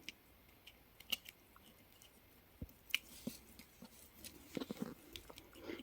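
Scissors make short, crisp snips as they cut paper for a journal craft, scattered quietly across a near-silent room and followed by soft rustling.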